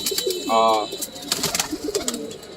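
Green pigeons coo in a loft, with one clear throaty coo and a softer second one a moment later over busy background chatter and rustling.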